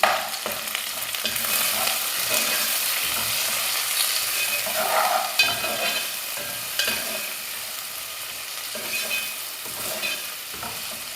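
Onions being stirred as they fry in a pan for a dry prawn and brinjal curry, with a steady crackling sizzle and repeated scraping stirs close up, no talking.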